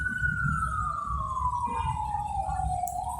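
An ambulance siren wails past as a single long, smooth tone that slowly falls in pitch and then rises again, loud and steady over low rumbling background noise.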